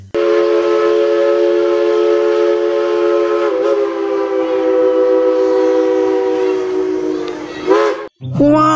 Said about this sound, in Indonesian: lihat teman-teman, ini ada kereta api Thomas